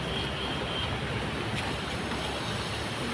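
Rushing flood water and wind roar steadily in a broad, noisy wash, with no voices heard.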